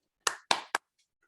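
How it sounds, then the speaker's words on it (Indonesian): Three quick bursts of hand clapping ring out at a women's church gathering, a short, close smattering that stops abruptly and leaves silence. "Boleh nggak kita kasih tepuk tangan buat diri kita sendiri?"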